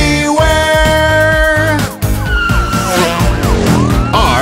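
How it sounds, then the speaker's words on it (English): A police car siren wails in rising and falling sweeps over upbeat children's song music, loud and close. "I am a police car. Vroom, vroom, police car."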